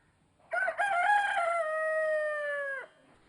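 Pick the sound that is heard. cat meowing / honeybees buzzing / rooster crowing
rooster crowing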